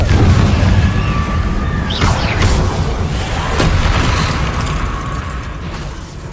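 A Confringo fire-blast spell in Hogwarts Legacy erupts in a loud, booming explosion with a crackling burst near the two-second mark, set against a dense, continuous rumble of game sound throughout.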